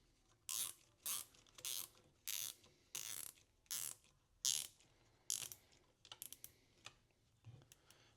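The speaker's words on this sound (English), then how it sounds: "Then I will take a quick zip tie." A zip tie ratcheted tight while working on an AK rifle, a series of about ten short, crisp clicking bursts at a steady pace, close and fairly quiet, with no talking.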